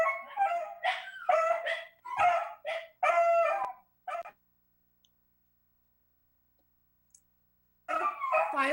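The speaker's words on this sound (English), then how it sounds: "my dogs are going crazy" Dogs in a house bark and yip in rapid bursts for a few seconds, fall silent, then start up again, heard fairly close and fairly loud.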